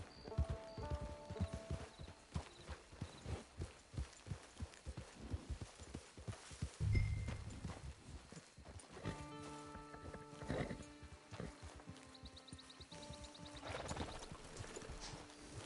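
Horse hooves clip-clopping in Red Dead Redemption 2, a rapid rhythmic trot of hoofbeats continuing throughout at moderate volume, with a brief snort or whinny and game music tones layered over it.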